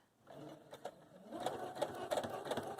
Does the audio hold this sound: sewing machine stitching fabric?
yes